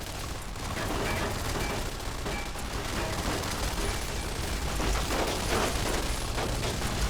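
Sustained, dense gunfire aimed at turrets in Fallout New Vegas rattles on without a pause, a harsh wall of shots and mechanical clatter at steady loudness.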